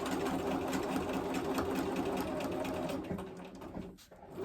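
A sewing machine free-motion quilting a leaf in variegated thread hums with a fast, even needle rhythm, close and continuous, then slows and briefly stops near the end before restarting.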